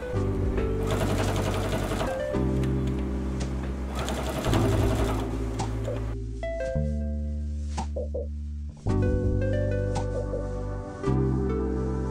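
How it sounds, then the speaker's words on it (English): A sewing machine top stitches a casing for bones in a satin bridal bodice, running loud and close in long steady bursts with brief pauses and speed changes. "just top stitch for the placement of the bones"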